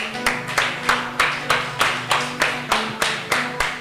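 A church congregation claps in unison at a steady rhythmic beat of about three claps per second, with a faint musical tone sustained underneath, loud and close.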